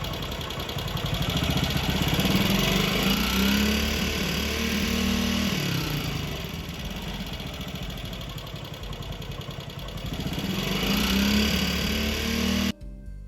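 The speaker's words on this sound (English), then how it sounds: "you can see when I rev the motor, it moves to the full advance mark" Single-cylinder Ducati motorcycle engine fitted with an Electrex World ignition, running with a throbbing idle that swells as it is revved twice, close and loud, then drops back.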